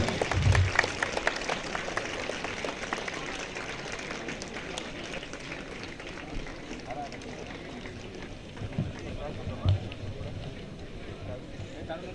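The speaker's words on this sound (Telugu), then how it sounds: "ఒకసారి గట్టి చప్పట్లు కొట్టాలి మన పోలీసు బృందానికి వాయిద్య బృందానికి అందరికీ" A crowd gives loud, sustained applause for a police team and band at a public event, clapping steadily throughout with voices mixed in.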